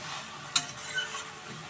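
Cabbage frying and being stirred in a pan at home, a soft steady sizzle with one sharp scrape of the spoon and a fainter stir later, close and fairly quiet.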